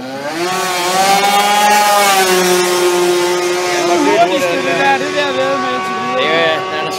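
A TCR Sprinter scooter at a drag racing motor festival, its engine screaming with a high buzzy whine that climbs and shifts pitch while accelerating, loud and sustained under a commentator's voice.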